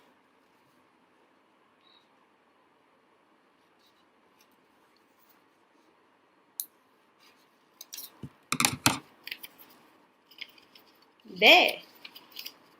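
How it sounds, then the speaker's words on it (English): Scissors snip a leftover paper flap off a penguin craft cutout in a kids' class, a few short close cuts and rustles after a quiet stretch, with a brief spoken word. "the flap which is there at the back, which is extra, we are going to cut it out."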